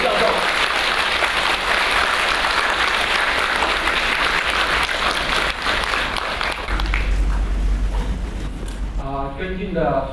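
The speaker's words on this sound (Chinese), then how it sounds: "有请大家以热烈的掌声，欢迎香港中文大学人间佛教研究中心的学仪教授" An audience at a Chinese University of Hong Kong lecture on Buddhism breaks into loud, sustained applause to welcome a professor; the clapping fills most of the stretch, then gives way to a low rumble and a voice beginning to speak.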